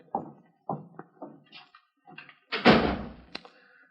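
A door being shut as a radio drama sound effect: a few soft footsteps and handling knocks lead to a firm close thump with a short rattle, fairly quiet and with no talk.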